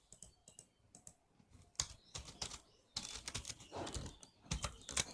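Keys clatter on a computer keyboard as Python code is typed into a console, in quick irregular bursts with short pauses, fairly close and clear with no talking.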